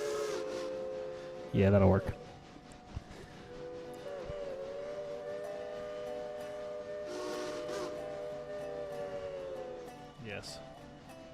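A three-chime Crosby 3 steam whistle sounds in the train game Railroader, a sustained chord holding for several seconds beneath a brief spoken remark, with hiss and short bursts around it.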